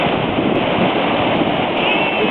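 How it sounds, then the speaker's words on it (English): The waterfall on Coal Creek roars as a steady broadband rush, loud and close throughout, with faint wind on the microphone and no speech. "This is the waterfall in the creek."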